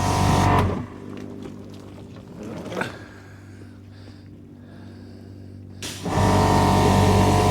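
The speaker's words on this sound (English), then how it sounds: "there's nothing more satisfying than watching snow foam getting blasted off a car" A pressure washer blasts snow foam off a Rover P6 3500S car, making two loud, rushing bursts with a quieter stretch between them.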